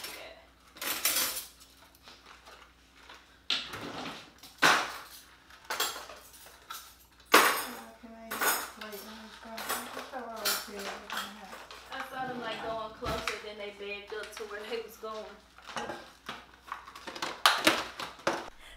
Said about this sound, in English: I guess I'm gonna start on the dishes too